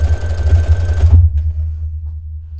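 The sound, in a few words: sewing machine stitching knit fabric, universal needle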